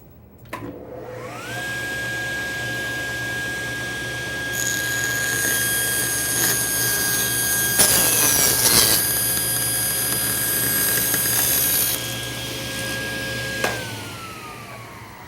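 A table saw runs with a steady, loud motor whine as it rips thin strips about a sixteenth of an inch wide from a wood blank set against the fence and a stop block, with a brief harsher cutting stretch midway before it spins down.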